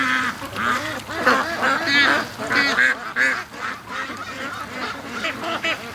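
A flock of free-range Muscovy ducks rushes out of their pen in the morning, giving loud, overlapping nasal honks and quacks in a busy, continuous chorus close by.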